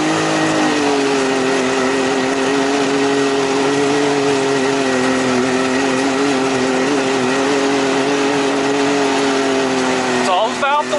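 A Can-Am Defender side-by-side revs hard while its wheels spin in snow: a loud, close, sustained engine drone that shifts and wavers in pitch.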